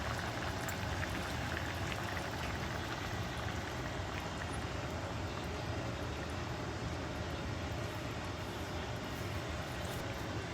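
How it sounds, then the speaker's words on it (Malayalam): Kerala-style fish molee simmers in a pan as first coconut milk goes in, a soft, continuous bubbling and gentle liquid hiss throughout, fairly quiet and with no one talking. "ഇനി നമുക്ക് 1ാം പാൽ ഒഴിക്കണം"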